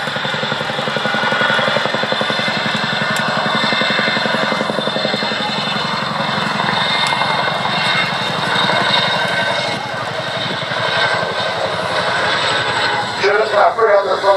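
A Boeing Chinook tandem-rotor helicopter flying a role demonstration at the Duxford summer airshow, a loud steady rotor thump and engine roar at a distance, with a commentator talking over the public address throughout.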